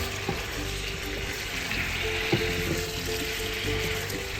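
Garlic sweet longganisa meatballs caramelize in a pan with a steady, continuous sizzle and crackle, with a few brief louder pops and no talking.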